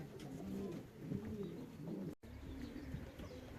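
A male racing pigeon, back from a 360 km race from Mława, coos close by in repeated low, throaty phrases, with a brief dropout midway.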